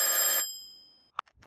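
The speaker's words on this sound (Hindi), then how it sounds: "चाचा चौधरी के घर पर टेलीफोन बजता है।" A telephone bell rings in a house, a bright sustained ring that cuts off and fades, followed by a short click and soft handling sound.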